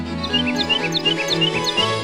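Wild birds chirp around a backyard seed feeder, a rapid run of bright, high tweets repeating steadily, clear and close over a soft musical bed.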